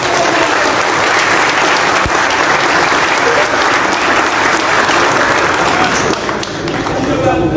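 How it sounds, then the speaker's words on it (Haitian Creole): A crowd gives loud, sustained applause for a journalist, a dense wall of clapping that holds steady with voices mixed in. "Battons bravo pour lui qui a annoncé ça."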